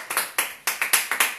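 Scattered hand claps from a church congregation, about ten sharp slaps coming in irregular bursts, fairly close and distinct, with no talking over them.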